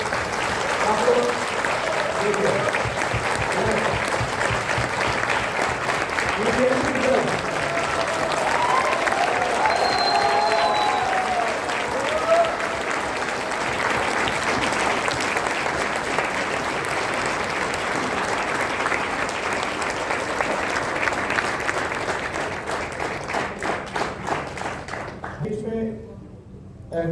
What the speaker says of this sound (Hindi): और आपके लिए जो तालियां होनी चाहिए वो आपको